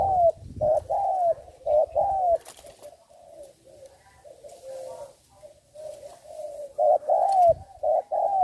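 Repeated low, soft cooing calls from a spotted dove, phrases rising and falling in a steady rhythm, fairly close, with occasional faint background noises.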